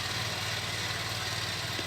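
A harvesting machine's engine runs on a farm, giving a steady, even mid-pitched drone that holds constant with no talking over it.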